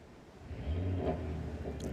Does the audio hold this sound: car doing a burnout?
yes